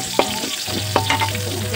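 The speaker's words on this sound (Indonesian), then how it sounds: "Langsung saja kita masukkan ini bawang merah, ini masukkan aja." Shallots fry in reused chicken-frying oil, a steady close sizzle broken by two sharp scrapes of a spatula stirring the pan.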